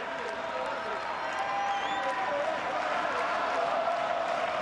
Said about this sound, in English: You can hear the crowd starting to get into it.